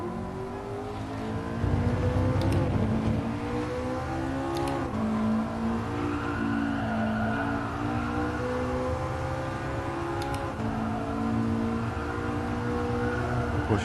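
In GT Sport, a 2010 McLaren MP4-12C pulls out of a downhill corner, its engine building gradually in pitch and volume and holding a continuous, steady roar.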